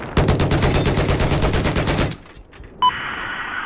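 Rapid automatic gunfire aimed at an aircraft in Battlefield 4, a loud continuous burst lasting about two seconds, followed by a brief lull and a short electronic tone.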